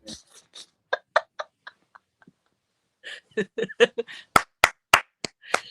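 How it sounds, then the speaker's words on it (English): Sharp, close hand claps come in uneven bursts, some single and some in quick runs, with short pauses and a loud cluster near the end. People chuckle and talk casually in between. "Yeah, gotta put the claps with it."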